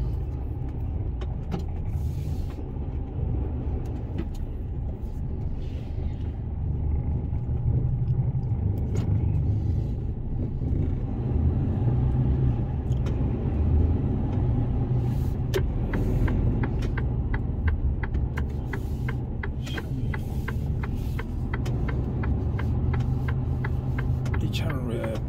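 Steady low rumble of idling and creeping traffic jam near a container work site in Incheon, engines droning close by with occasional brake hisses, and people talking over it.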